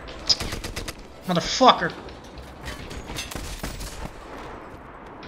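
Gunfire in the World War II shooter Medal of Honor: Airborne, a scattering of sharp shots and a louder cluster of fire under a man cursing angrily.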